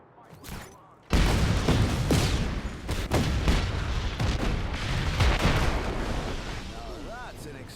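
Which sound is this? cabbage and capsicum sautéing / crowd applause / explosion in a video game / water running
explosion in a video game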